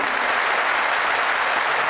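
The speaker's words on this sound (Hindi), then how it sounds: "आइए ताली बजाओ उन दानवीरों के लिए" An audience at a religious charity gathering breaks into loud, sustained applause, a thick, continuous wash of many hands clapping at a steady level, with no speech over it.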